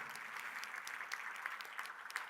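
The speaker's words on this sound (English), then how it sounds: "Omar, round of applause for Emirates Flight Catering." Audience applause at a corporate summit event, a steady wash of clapping hands with a few sharper individual claps, moderately faint and continuous throughout with no speech.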